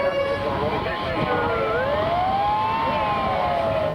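A fire engine siren responding to a road accident wails with rising and falling sweeps over a steady road and engine rumble, loud and close, continuous throughout.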